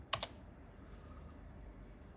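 A couple of quick, sharp clicks from a computer keyboard right at the start, then near silence with only a faint room hum and no talking.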